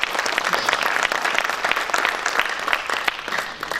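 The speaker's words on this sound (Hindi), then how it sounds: "जोरदार तालियों से उनका भी स्वागत करें।" An audience at a Hindi poetry recital (kavi sammelan) breaks into lively applause, with uneven bursts of clapping that swell and dip over a few seconds.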